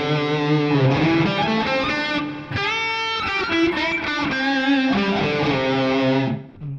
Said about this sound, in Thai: เป็นเสียงแตกนะครับลองดู